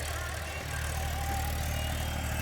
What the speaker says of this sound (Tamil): இது டிராக்டர்னால அடித்து நவத்து ஸ்பீடாக ஓடும்